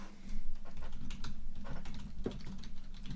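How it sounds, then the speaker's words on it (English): Someone types on a computer keyboard over a constant low hum, with a quick patter of key clicks running throughout at moderate loudness and no voices. "He's typing."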